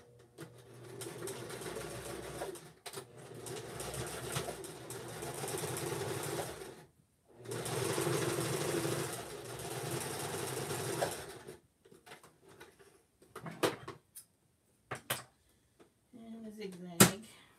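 A sewing machine stitches sweater mittens in two long, steady runs, then breaks into short stop-start bursts with soft handling noises in between, close and fairly quiet.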